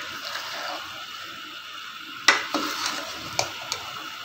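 Minced meat keema fries in a pot over low heat with a steady sizzle, while a spoon scrapes and clinks against the metal as it is stirred. The sound is close and there is no talking.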